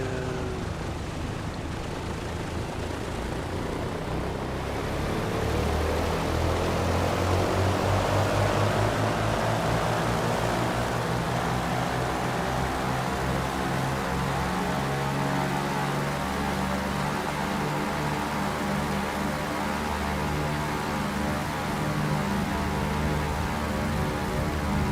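A DC-3 propeller airliner makes its takeoff roll in Microsoft Flight Simulator 2024. Radial engines drone heavily and steadily, and their pitch rises gradually as the roll builds speed.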